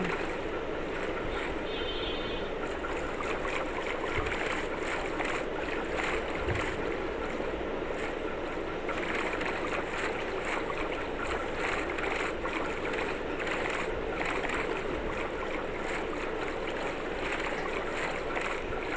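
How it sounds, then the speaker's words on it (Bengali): A boat gliding over water in the Minecraft video game, a continuous rushing wash of water and wind that stays steady and fairly loud throughout, with no voices. "আমি বোট নিয়ে যাচ্ছি কোথায় আমি নিজেও জানি না, আর আমাকে বোট নিয়ে আমি অনেক জায়গায় যাচ্ছি।"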